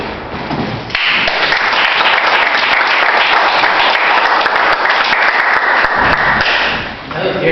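Sustained, dense applause from a stand-up comedy audience at The Apollon, close and loud, with scattered sharper claps and thumps standing out; it swells after the first second and fades slightly near the end.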